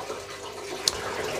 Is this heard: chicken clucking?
no